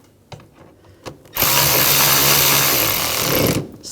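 A power drill runs loud and steady for about two seconds, driving down a screw on an ignition coil of a 2007-2013 BMW X5 3.0L inline-six, after a few light clicks and taps of handling.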